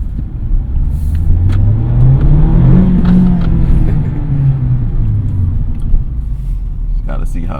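A 2020 Mazda Miata RF (MX-5) engine pulls as the small roadster accelerates, its steady, close rumble rising and then easing in pitch through a gear, with a brief higher whine near the end.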